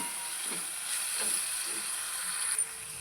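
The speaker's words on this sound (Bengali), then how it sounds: "এগুলো ভালো করে কিছুক্ষণ ভালো করে এটাকে নেড়ে চেড়ে নেবো। নেড়ে চেড়ে নিয়ে কিছুক্ষণ ফুটতে দেবো।" A steady sizzle and hiss from tomatoes cooking down for tomato chutney, with a few soft scraping stirs breaking through the constant bubbling.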